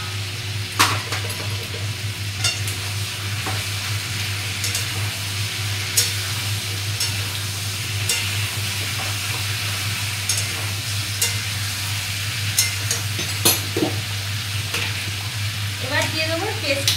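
Fried potatoes are stirred into chicken sizzling in a pan. A continuous close sizzle is broken by repeated scraping stirs and occasional clinks, with a low hum beneath.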